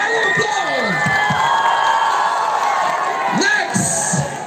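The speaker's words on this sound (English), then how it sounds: "once again a big round of applause" A crowd at a night-time beauty contest cheers a contestant loudly, with shouts, whoops and sustained high-pitched screams carrying throughout.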